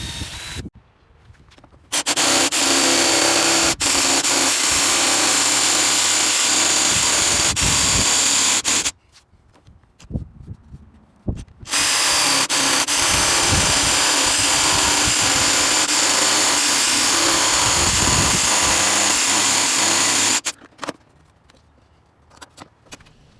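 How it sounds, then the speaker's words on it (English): A power drill and jigsaw cut holes and long straight pieces from wood for a stair tread jig, running in two long loud bursts separated by quieter pauses with handling clatter. "I'll drill holes in both ends, and I'll take a jigsaw and cut the long straight pieces out"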